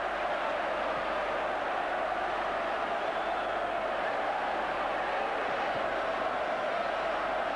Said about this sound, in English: Suddenly Wigan can cheer again.